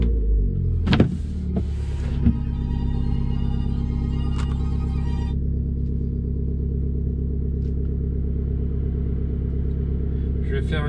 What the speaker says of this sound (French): Je vais démarrer mon auto.